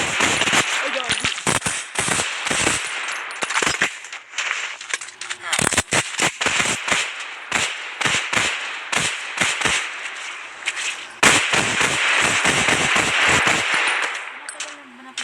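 Rapid bursts of game gunfire from a Minecraft zombie mod, loud and dense, firing in repeated volleys with brief gaps, then a long sustained burst near the end.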